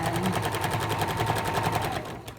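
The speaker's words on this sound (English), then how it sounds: "you're just going to stitch so that you get the stitching line close to the yarn" A sewing machine stitches piping onto a blanket in a fast, steady rattling rhythm, close and continuous, then slows and stops near the end.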